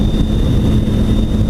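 A car driving along a lake, a steady close engine and road rumble with a constant faint whine, no breaks across the short stretch.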